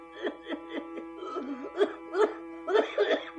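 A singer imitates coughing in a devotional bhajan about old age, producing rhythmic voiced hacking bursts with melodic tone, repeated roughly every half second.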